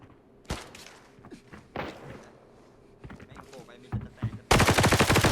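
Gunfire in the video game Arena Breakout: scattered single shots and short bursts, then a loud sustained automatic volley at the end, with voices talking over the fight.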